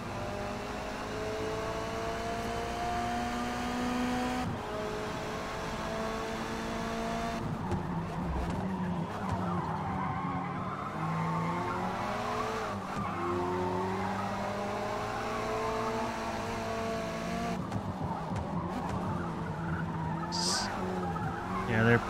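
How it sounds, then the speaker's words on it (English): Race car tires on worn rubber squealing and skidding through a corner in Forza Motorsport touring car racing, a 308 touring car, with steady engine roar running throughout and sharp breaks in the sound as the car slides. "one wheel peeling through that corner there"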